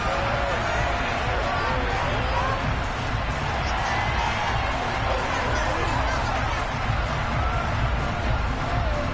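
A dense stadium crowd at a college football game roars and shouts continuously through a replay, a thick wall of voices with excited yells rising from it.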